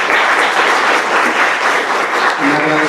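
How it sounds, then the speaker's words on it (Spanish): A large academic audience at a general session breaks into sustained applause, dense and even throughout, with a voice faintly rising near the end. "Démosle un fuerte aplauso por favor a usted"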